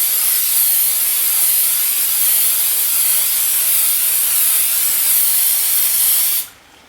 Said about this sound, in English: keeping a good distance between yourself and pot, do a nice spray action